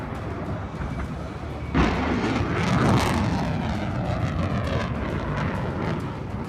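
An F-16 Viper fighter jet roars past, a loud broadband engine rush that swells and sweeps in pitch as it flies by, then settles into a steady fading rumble, with no speech.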